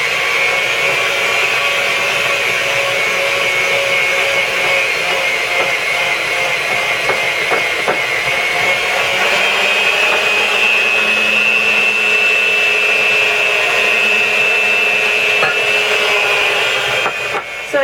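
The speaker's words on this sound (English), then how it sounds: "electric hand mixer to mix the chocolate frosting, alternating the powdered sugar with the evaporated milk" An electric hand mixer whirs steadily through chocolate frosting made with powdered sugar and evaporated milk, giving a loud, even motor drone with faint scraping against the bowl and no pauses.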